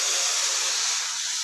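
Steady, loud hiss of steam and bubbling water boiling in a pot for making tea, continuous and close, with no talking.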